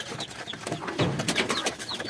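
Pigeons coo in a loft just before being loaded for racing, a steady soft murmur of several birds with repeated throaty calls, close and moderately loud, with no talk.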